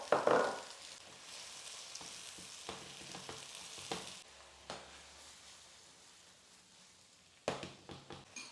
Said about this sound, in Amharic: ሽንኩርታችንን እንጨምራለን። ጠበስ ጠበስ እናደርጋለን።